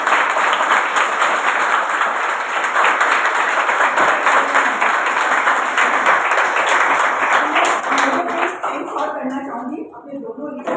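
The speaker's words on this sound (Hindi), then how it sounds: "जोरदार तालियां, जोरदार तालियां" Loud, dense applause from an audience at a gathering, many hands clapping continuously before thinning and fading near the end, with some voices faintly mixed in.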